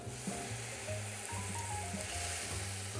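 Steady hissing sizzle from a pan of rendang-style braised beef being deglazed, close and continuous, with a low, even undertone and no talking.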